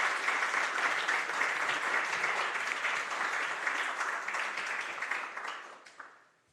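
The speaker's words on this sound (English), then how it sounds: "this is now your applause, Deputy Minister" An audience at a panel event on Taiwan applauds a Deputy Minister: sustained, dense clapping at a moderate distance, tapering off over the last second or two.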